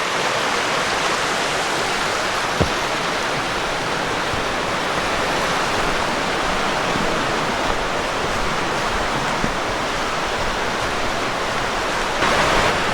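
A stream in a Lancaster, Pennsylvania nature preserve rushes over rocks in a steady, dense wash of flowing water, close and continuous throughout.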